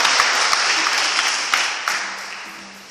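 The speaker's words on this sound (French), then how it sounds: "Bien-aimé, acclame la parole de Dieu." A church congregation applauds during a sermon with dense, steady clapping that fills the room, loud at first and slowly fading over three seconds.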